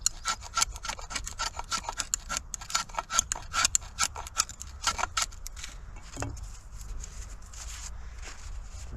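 A Beavercraft AX3 camp axe shaving wood, giving rapid, repeated scraping and rasping strokes that are close and steady throughout with no voices.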